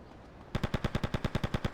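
Rapid automatic gunfire in a GTA game set in Liberty City, a sustained burst of about a dozen evenly spaced, punchy shots that starts abruptly after a short quiet moment.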